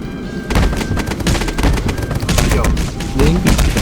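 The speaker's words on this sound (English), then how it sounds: "That might be enough dynamite." A rapid string of dynamite detonations in the Roblox game Build a Boat for Treasure crackles and booms in quick, overlapping bursts, loud and dense, filling the few seconds.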